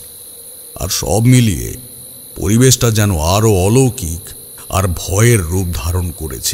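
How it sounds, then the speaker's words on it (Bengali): A steady, high-pitched chirring of crickets at dusk runs throughout, continuous and fairly close, while a person speaks over it in a calm narrating voice. "ঝিঝি পোকার ডাক শোনা যাচ্ছে"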